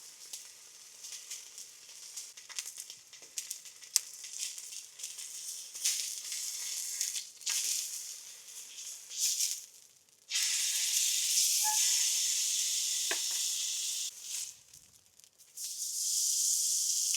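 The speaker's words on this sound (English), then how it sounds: "Cook the steak." Steak sizzling in a hot pan at a summer campsite, a steady hissing fry with crackling spatters that swells louder midway and stays close and continuous, with no talking.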